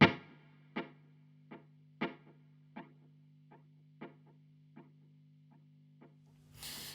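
A multi-head delay effect from IK Multimedia T-RackS Space Delay repeats a single plucked note, producing about ten echoed hits that decay and space out, over a low sustained hum, with a brighter noisy swell at the end.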